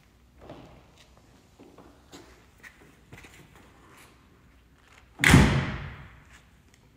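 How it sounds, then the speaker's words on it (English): A 1984 Ferrari 512 BBi engine bay lid is opened on the flat-12, a single sharp clunk of the latch and lid close by, preceded by faint footsteps and small handling noises. "Open up the engine bay."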